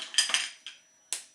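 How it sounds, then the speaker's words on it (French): A bar of chocolate is broken into pieces by hand for a gluten-free chocolate mousse, giving several quick, crisp snaps and clicks close by, with short pauses between them. "on va commencer par casser notre chocolat en plusieurs parties"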